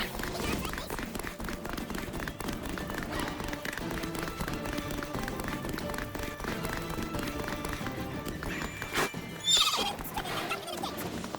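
Roach the horse gallops in the game The Witcher 3, with rapid hoofbeats running throughout and a whinny near the end while someone speaks over the action.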